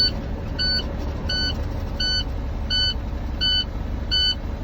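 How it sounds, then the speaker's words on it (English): A truck's air brake warning beeps, regular and high-pitched, about once every 0.7 seconds over a steady idling engine rumble, close by. "you want to rev it up so you can take off that warning sound, that beeping"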